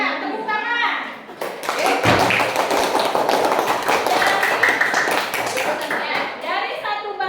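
A class of school children claps together in a dense, loud burst of applause that lasts several seconds, with children's voices heard before and after.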